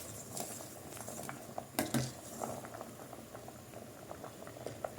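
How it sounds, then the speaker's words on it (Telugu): Vegetable pieces boil in water in a pot for Andhra-style pappu charu, a continuous close bubbling and popping with a few light clinks of utensils against the pot. "చూడండి ముక్కలు అన్నవి ఎలా ఉడికిపోతున్నాయో."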